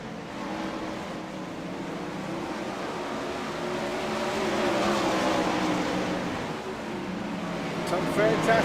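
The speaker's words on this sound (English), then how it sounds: "Some fantastic racing going on here at the virtual Knoxville Raceway" 410 sprint cars racing at virtual Knoxville Raceway in a sim racing game, a pack of engines droning and swelling steadily underneath continuous commentary.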